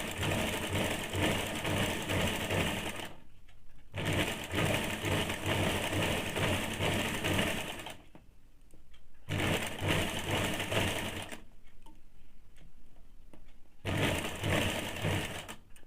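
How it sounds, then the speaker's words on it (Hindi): A sewing machine stitches a two-piece high neck blouse in several steady mechanical runs, each several seconds long, broken by brief pauses, close and loud with no talking. "अब मशीन को चलाएंगे किस प्रकार से, आप इसको देख लीजिए।"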